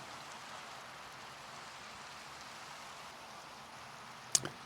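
Steady Minecraft rain hisses as a soft, even wash of falling drops, heard alone with no talk and a brief sharp click near the end.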